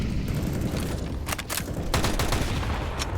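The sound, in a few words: gunfire in Counter-Strike video game match on Nuke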